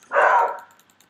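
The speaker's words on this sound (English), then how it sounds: "There's a dog." A single short dog bark in a video game, close and clear, ending quickly in near silence.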